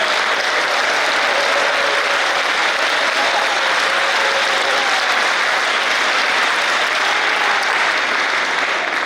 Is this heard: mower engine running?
no